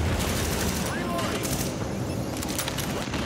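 Dense, continuous gunfire from the video game The Division, a sustained fusillade of overlapping shots filling the scene with little pause, while a player's voice talks over it.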